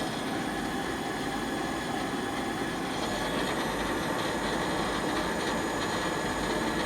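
A used 2014 Okuma Genos L300E-MY CNC lathe runs its spindle at 3,000 RPM, producing a steady, dense mechanical hum and whir that holds constant throughout, loud and close.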